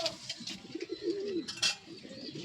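A pigeon held in a person's hands gives soft, rolling coos close by, with a few faint chirps and quiet rustling underneath.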